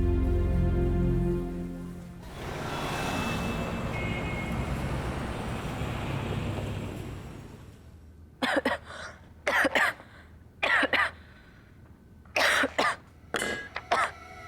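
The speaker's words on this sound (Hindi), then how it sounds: "खांसी रुक जाएगी।" Repeated coughing fits from a person reacting to coal smoke, several short harsh bursts close by after a stretch of engine-like rumble.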